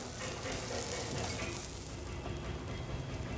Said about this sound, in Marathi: आपलं गाजर आणि मसाला बऱ्यापैकी शिजत आला आहे